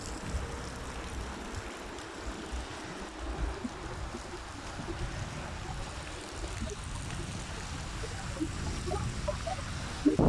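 Hacı Ahmet stream in Balçova, a creek carrying little water in the rain, flows as a steady low rushing wash with a slight rise near the end, no voices over it.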